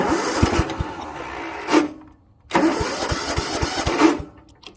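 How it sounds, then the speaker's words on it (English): A Sears Custom 10XL chainsaw engine fires up and runs loudly and close by, cutting out briefly around the middle before catching again and running on with a rough, uneven beat. "So we'll start it here and kind of show you how it runs."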